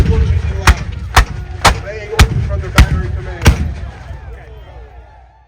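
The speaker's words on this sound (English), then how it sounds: "They're gonna have to face a terrible bombardment from 85 guns posted in this area." Artillery bombardment from a massed battery of 85 guns: six heavy booms spaced about half a second apart, loud and close over a low rumble that fades out afterward.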